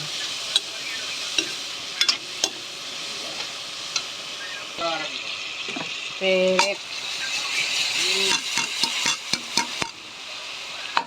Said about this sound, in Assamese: মাটি দালি মাংস লগত এনেকা মিক্স কৰি ভাজিব লাগে